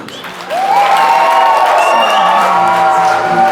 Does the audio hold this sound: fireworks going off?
no